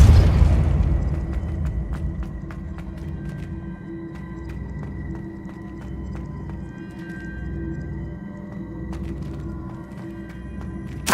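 A Depulso spell cast in Hogwarts Legacy, giving a low booming burst at the start that fades into a steady rumbling game ambience with scattered faint clicks.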